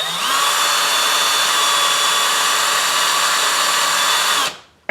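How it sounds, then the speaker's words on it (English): A power drill drilling out rivets on a Dinky Jaguar model car whines at a steady high pitch for about four seconds, then winds down and stops abruptly. "I keep drilling a little deeper until I get them very close to popping off"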